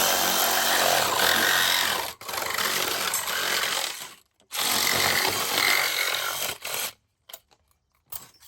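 A loud power saw fitted with a metal-cutting blade whines through material in long continuous cuts, pausing briefly twice before winding down and stopping.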